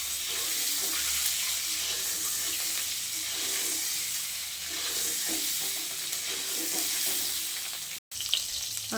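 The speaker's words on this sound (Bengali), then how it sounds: "এবার আমি ডিমগুলো ভেজে নেব" Continuous close sizzling of eggs coated in turmeric, salt and chili frying in hot oil in a kadai, a steady crackling hiss with a short break near the end.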